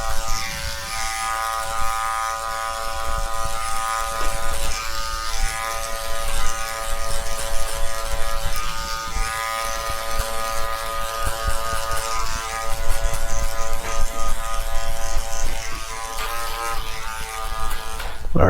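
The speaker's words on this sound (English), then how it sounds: "Clipper open. At the top, open midway close as you drop down." Electric hair clippers buzz steadily and close while cutting a drop down fade, the hum wavering slightly as the blade works through hair, with no talk over it.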